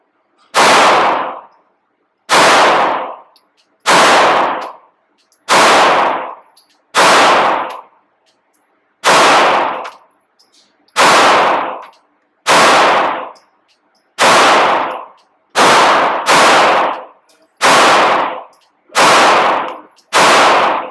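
A Glock 19 pistol fires a long series of loud, evenly spaced shots, each a sharp crack with a ringing tail, about a dozen in a row with no talk.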